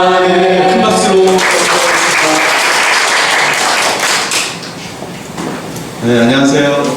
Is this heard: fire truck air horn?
no